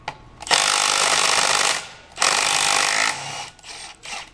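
A Milwaukee M12 stubby impact wrench removes car lug nuts with loud, close hammering rattles: two long bursts of about a second and a half each, followed by a few short trigger blips.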